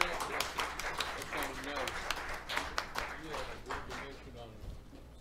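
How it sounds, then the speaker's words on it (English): Applause from a small live-music audience at Bob's, a dense patter of many hands clapping steadily through the whole stretch at moderate level, with a few scattered louder claps and some voices mixed in. "Let's give these guys another round of applause."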